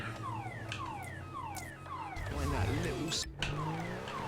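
A car alarm in Grand Theft Auto V repeats a steady run of falling electronic tones, moderately loud, while game engine noise, traffic and a talking voice continue underneath.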